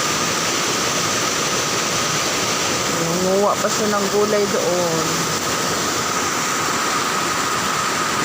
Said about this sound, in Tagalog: Kalakas ng tubig dito sa sapa.